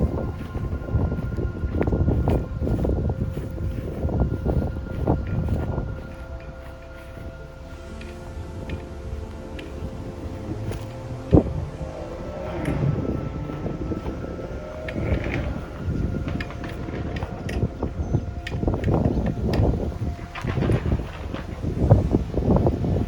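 Gusty wind buffets the microphone outdoors in an 18th-century cemetery in Maine, rising and falling in loud rumbling bursts, with a faint distant hum underneath.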